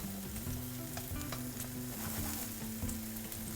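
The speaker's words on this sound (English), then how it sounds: "We're cooking the red onions right now." Red onions sauté in extra virgin olive oil in a pan, a steady close sizzle and crackle running throughout, with music playing underneath.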